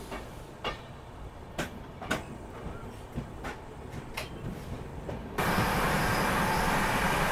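A Kanchankanya Express pulling out of Kishanganj station, heard from aboard as a steady low rumble with periodic wheel clicks over rail joints, then a sudden louder, broader roar in the last seconds as the carriage noise swells.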